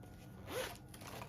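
A single quick zip on a small fabric zipper bag, a short soft rasp close to the ear against quiet room noise.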